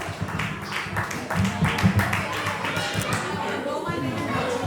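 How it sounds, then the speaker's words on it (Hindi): An audience at a Jain Samaj community annual day in Newcastle claps at a drama performance, a loose scattered round of applause that swells midway and mixes with background chatter. "प्लीज जोरदार तालियों से खूब खूब"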